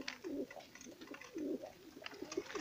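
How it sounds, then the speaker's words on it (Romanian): A pigeon of a show breed, feathered-footed and leg-ringed, coos in soft repeated low phrases close by, three rounded bursts in quick succession with quiet gaps between. "Este un porumbel foarte frumos."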